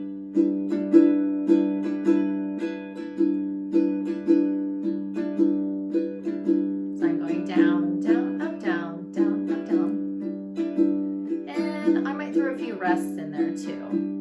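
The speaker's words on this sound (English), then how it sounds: "I'm using a slight swing, so my up strum will sound like this." Acoustic guitar strummed in a slightly swung rhythm of down and up strums, clear and close, chords ringing with a bright upstroke rasp between the steady downbeats, no voices.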